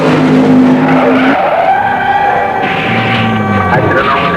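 Drag racing car crashing and skidding on the strip at Santa Pod in 1973: loud tyre squeal and scraping with a falling engine whine, close and continuous for several seconds.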